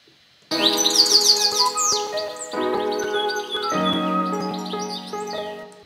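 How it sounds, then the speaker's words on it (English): Bright bird chirps and tweets from a sample repeat in quick bursts over a soft lofi beat, close and clear, with no talking. "I think I've got maybe some bird sounds or something"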